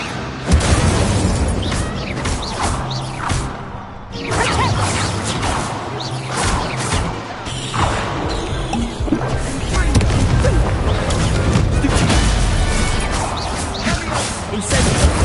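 Incendio fire spell blasts in Hogwarts Legacy dueling, loud whooshing bursts and crashing impacts repeating throughout, mixed with a voice calling out spells.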